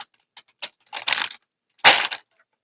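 A crinkly snack package being torn open by hand, a few short crackles and then two longer, louder ripping bursts close up, with no voices.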